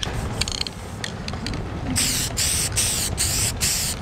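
Repeated short bursts of hissing from a spray paint can, about five in a row with brief pauses, loud and close, preceded by faint clicking and rattling.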